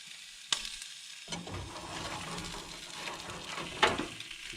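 Butter melts and sizzles steadily in a pan over a campsite cook fire, a close crackling hiss with a couple of sharp clanks from the pan.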